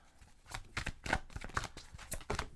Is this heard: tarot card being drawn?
yes